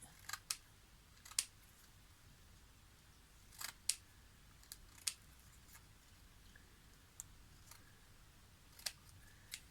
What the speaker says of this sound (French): je vais juste avec mes ciseaux enlever la partie des pointillés